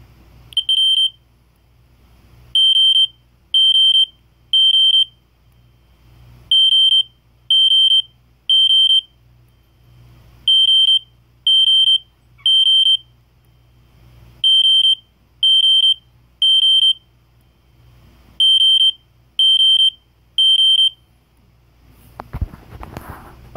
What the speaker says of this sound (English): The next tone is 3000 hertz in code 3, and it's going to sound like a smoke detector.